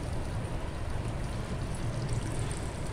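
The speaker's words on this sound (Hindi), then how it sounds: "राइस मैं डाल रही हूँ पानी बॉयल हो चुका है" Rice tipped into a pot of already boiling water while cooking chicken biryani, giving a steady broad rush and bubbling hiss that runs evenly throughout with no voices.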